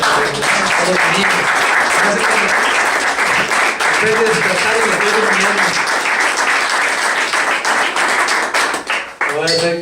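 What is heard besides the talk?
congregation applauding the Lord in church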